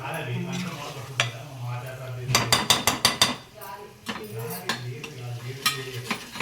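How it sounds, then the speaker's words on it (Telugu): Mutton being stirred into curry frying in a pan, with a utensil scraping and clinking against the metal over a steady sizzle, including a quick burst of rhythmic knocks midway. "ఇది అయిపోయినాక మటన్ కలుపుతున్నావా? కలుపుతున్నా."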